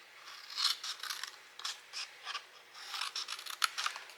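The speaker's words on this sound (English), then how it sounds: "we're going to cut this just like we cut our other boxes." Scissors snip through cardstock while a scalloped poinsettia box is being cut, giving a quiet, close series of short crisp cuts and rustles in an irregular rhythm.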